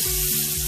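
Onions frying together with smoked herring in a pan for shrimp and herring pasta, a steady close sizzle with no voices.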